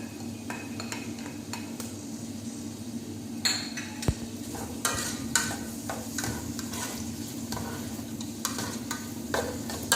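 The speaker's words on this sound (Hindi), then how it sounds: "अब मैं इसमें प्याज डाल रही हूँ थोड़ा सा इनको सौते करने के लिए" Onions sautéing in about four tablespoons of oil as the base for a beef lasagna, a soft steady sizzle broken by scattered utensil scrapes and metallic clinks against the pan.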